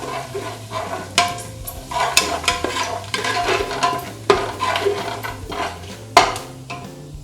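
Fennel seeds spluttering in hot ghee with whole spices in a pan, close crackle and sizzle mixed with busy clatters and scrapes of a spoon against metal.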